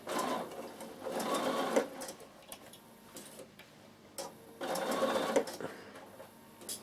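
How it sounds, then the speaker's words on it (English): A Bernina sewing machine sews a holding seam on a summer peak cap in two bursts of rapid, ticking stitches with a quieter pause between them. "you're going to be stitching your lining in"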